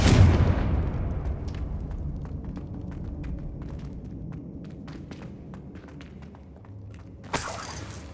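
Spell explosions from Confringo in Hogwarts Legacy burst out with a loud, booming blast at the start, leaving a rumbling decay under scattered crackling impacts, followed by another sharp burst near the end.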